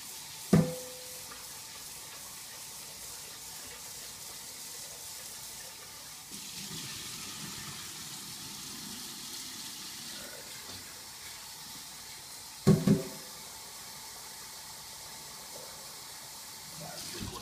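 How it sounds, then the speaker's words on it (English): Rice being washed under a running kitchen tap: a faint steady water hiss with a few short splashes and knocks, and quiet movement in the sink. "So I like to wash the rice until it runs clean."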